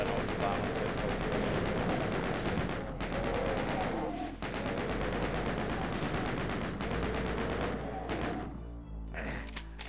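Rapid, dense weapon fire from the Doom shotgun on Episode 1, Mission 5 at Phobos Lab fills the scene almost continuously, loud and near, with brief dips between volleys over game noise.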